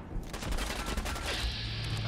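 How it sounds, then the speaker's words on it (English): Turret gunfire in Fallout 4, heard as a rapid burst of shots that keeps going throughout with no talking. "there's all sorts of things shooting at me"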